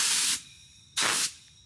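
Two bursts of compressed-air spray blast dust off freshly cut flooring in an interior remodel, the first longer, the second short, each a broad hiss with quiet between.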